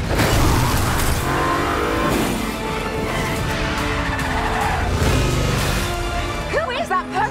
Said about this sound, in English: driving and drifting one-handed through the streets of Rome